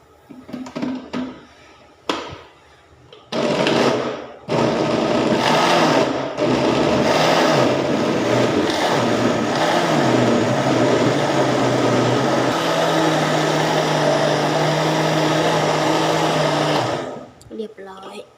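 An electric blender whirs loudly and steadily for about fourteen seconds, blending cassia leaves with strained yanang leaf juice for a Thai curry, after a few short clunks and a brief opening pulse.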